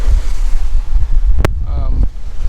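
A sailboat under sail in the Caribbean off St. Croix, with heavy wind buffeting the microphone and a low rush of water and hull noise, loud and close, while a voice briefly speaks over it.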